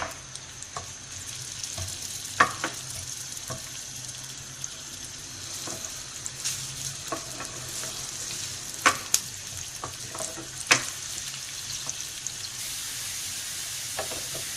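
Onions sizzle steadily in a hot pan while cooking chana dal chicken, with occasional clinks and stirring scrapes over the constant frying hiss.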